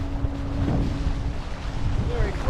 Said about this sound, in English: Here comes the gust.